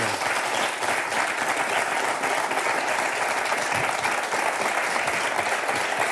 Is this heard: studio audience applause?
yes